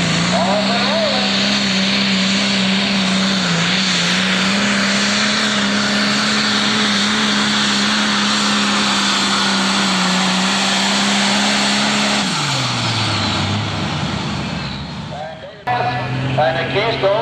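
A 10,000-pound Pro Stock tractor at a 1988 NTPA pull at Fort Recovery roars loud and close, holding a sustained heavy drone before the pitch drops sharply as the run winds down, with brief talk near the end.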